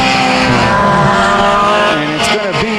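Mini stock race cars roar around a dirt track at Genesee during a heat race, loud engines revving and shifting pitch as the cars swing through turns three and four, with an announcer talking over the engines.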